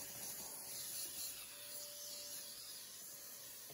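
A Beast 5.5 portable wet/dry vacuum runs steadily while cleaning the interior of a Dodge Caravan, producing a constant, fairly quiet airy hiss and whine with no talking.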